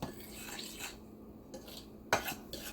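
Rice flour being mixed in a bowl for gluten-free chicken finger breading, with soft utensil scraping and clinks against the bowl and one sharper knock near the end.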